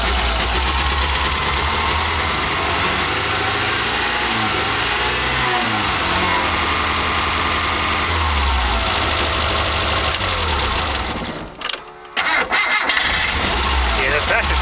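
A vehicle engine runs loudly and steadily, briefly cuts out, then cranks and catches again, settling back into a close idle. Voices can be heard talking over the engine.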